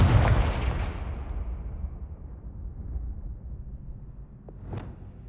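A booming fire spell blast from Hogwarts Legacy erupts loud and close, its rumble rolling and fading over several seconds, then a couple of small crackling pops near the end.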